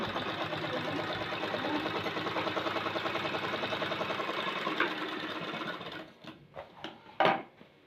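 A sewing machine stitches a lunch bag in one fast, steady run of rapid needle clatter, then stops and leaves a few scattered clicks and handling sounds.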